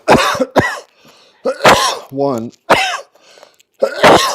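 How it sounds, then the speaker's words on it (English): Harsh, repeated coughing fits after a big hit of weed, several loud hacking bursts broken by short pauses, with someone briefly speaking between them. "because coughing is a side effect of this that is unfortunate."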